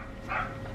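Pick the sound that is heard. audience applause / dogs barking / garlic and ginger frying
dogs barking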